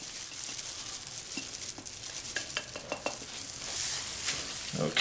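Vegetables sautéing in olive oil in a pan, with a soft steady sizzle under repeated scraping and clinking of a utensil stirring against the pan, close up and with no talking.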